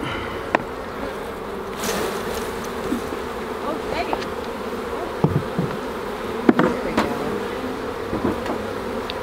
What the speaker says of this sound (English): And they're really buzzing now.